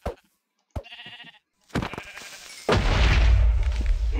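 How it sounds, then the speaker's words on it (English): Sheep in the Minecraft video game bleat in short bursts with gaps of quiet, followed by a loud, sustained rumbling burst of game noise. "Sheep, please."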